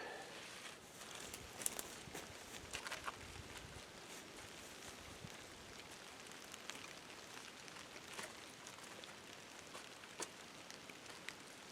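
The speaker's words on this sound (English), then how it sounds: "here comes the rain. It's pretty gentle right now." Soft rain patters faintly on a surface, scattered light drops and ticks over a quiet steady hiss, with an occasional brief rustle.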